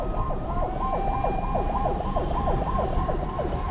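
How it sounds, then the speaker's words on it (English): A hearse carrying four coronavirus victims to Awudome Cemetery wails with a loud, close siren. Quick rising-and-falling sweeps repeat steadily over a rumbling engine and road noise. "The siren of the hearse carrying 4 people who died of coronavirus to the Awudome Cemetery"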